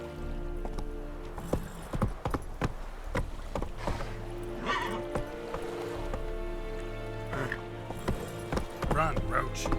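Horse hooves clip-clopping at a run in The Witcher 3, a steady beat of hoof falls with game music and ambient sound beneath and a voice speaking over it.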